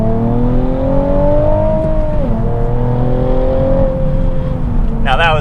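A car engine pulls hard in second gear, an Audi TT-RS or Nissan 370Z Nismo, its rising harmonic drone steady and loud throughout with a brief dip midway and a sharper burst near the end.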